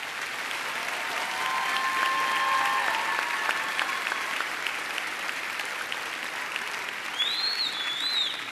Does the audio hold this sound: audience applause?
yes